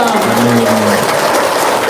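An audience at a talk breaks into applause, a dense wash of clapping that follows a brief voice at the start and carries on steadily to the end.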